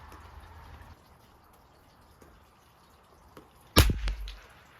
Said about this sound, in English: I'm going to shoot the middle right target.